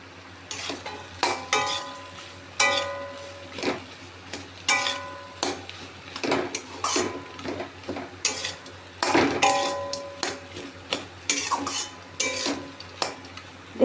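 Potato cooked with a pounded spice mix being stirred in a metal pan, with repeated scraping and clinking of a spoon against the pan in an irregular rhythm over a faint sizzle, close and fairly loud, with no talking.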